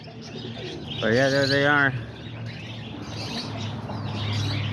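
Homing pigeons and roller pigeons coo in a loft, one clear throaty coo standing out close by over steady low ambient rumble, with a person speaking briefly.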